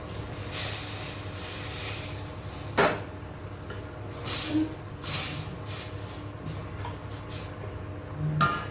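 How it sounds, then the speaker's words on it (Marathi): A steady hiss and sizzle as hot water is poured into masala frying in hot oil in a pan, with a few sharp clinks of a utensil against metal. "यामध्ये गरम पाणी आता आपण ओतून घ्यायचं आहे."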